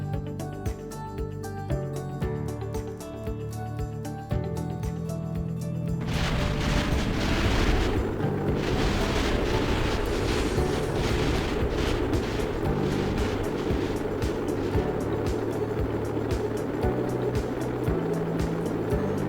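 A spacecraft explodes in the video game Kerbal Space Program. Music plays first, then a loud sustained roaring blast rumbles on for many seconds with no talking.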